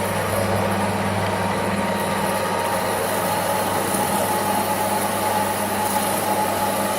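Saw blade cutting metal for a welding table, the blade warming up and starting to bind; a steady, loud grinding drone with a constant low hum runs unbroken throughout, with no talk.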